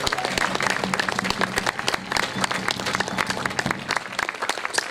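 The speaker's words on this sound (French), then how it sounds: "mesdames et messieurs, je voudrais qu'on applaudisse très très fort" Dense, sustained audience applause for the winner of stage 1 of the 2023 Tour des Landes cycling race, loud and close with many overlapping claps throughout and a faint voice beneath.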